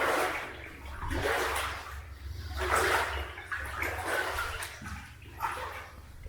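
Heavy splashing and sloshing of water in repeated surges, steps in Wellington boots wading through deep water in an abandoned service tunnel, close and steady with a low rumble beneath.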